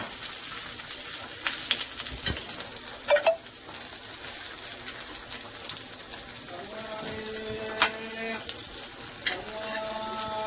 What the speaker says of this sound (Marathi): असे सर्व आपण फ्राय करून घेणार आहोत. एकदम असे आपल्याला फ्राय करून घ्यायचे आहे.